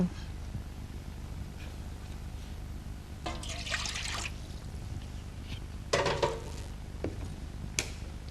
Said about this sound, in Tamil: இப்போ வாட்டர் நம்ம மிக்ஸ் பண்ணி காமிப்போம்.